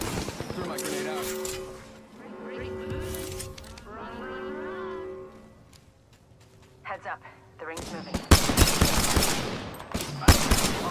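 Video game gunfire in a battle royale match with a shrinking ring, rising into loud dense bursts of shots and thuds near the end, after a stretch of game voice lines and music-like tones.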